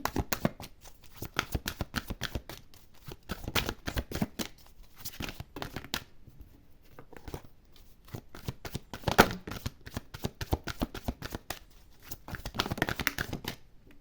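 Astro Crush cards are shuffled up close in quick, dense bursts of crisp riffling and slapping, pausing briefly between rounds, with no speech.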